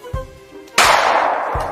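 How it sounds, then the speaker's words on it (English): A sharp, loud gunshot cracks out and rings into a long echoing tail, after a few low thuds. "as soon as she heard the gunshot"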